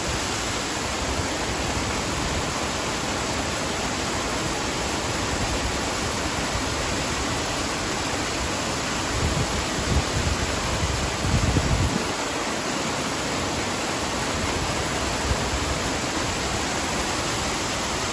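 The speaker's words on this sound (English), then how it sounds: "I'll let you guys sort of take in the fountain." The Lincoln Center fountain in New York City sends out a steady, loud, broadband rush of splashing water for the full length, with a few slightly louder bursts near the middle, and no voices over it.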